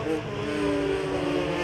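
Race cars, a BMW 3 Series among Clios, run on the Bresse circuit during a two-hour endurance race, giving a loud, steady engine drone with a sustained tonal whine and no break across the short span.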